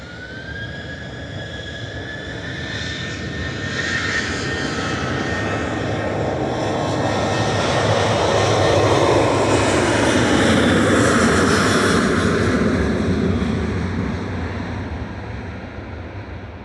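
Ryanair airliner departing Manchester Airport on a flight to Paris Beauvais, its engine roar swelling steadily to a loud, broad peak midway before slowly easing off, with a rising whine audible early on.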